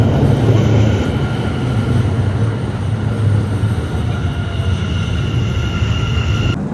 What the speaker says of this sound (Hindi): ये ट्रेन आ गई थी, और ऑन टाइम अब हमारे को इसने छोड़ दिया है यहाँ पर एम्स्टर्डम सोंथाल पे।